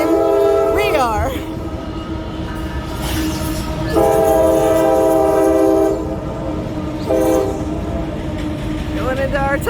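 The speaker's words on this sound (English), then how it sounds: "We've got a train going into the tunnel at the same time we are." Train entering a rail tunnel in Maryland near Harper's Ferry, loud and close with rumbling wheels and repeated blasts of its horn, the tone bending as it passes.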